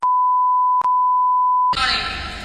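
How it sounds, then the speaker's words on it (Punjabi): A phone call being cut off, heard as a loud, steady hang-up beep tone that runs nearly two seconds with one brief dropout, then gives way to a burst of broadband line noise. "ਬੰਦਾ ਫੋਨ ਕੱਟ ਰਿਹਾ"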